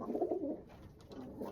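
Pigeons in a loft coo with soft, throaty, rolling calls that overlap, close by and moderately loud, with no talking.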